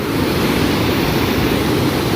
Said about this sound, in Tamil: தண்ணி விழுகிறது வந்து அங்கே சின்ன சின்ன கும்பலையாக நம்ம மேலே வந்து அடிச்சுக்கிட்டு இருக்கு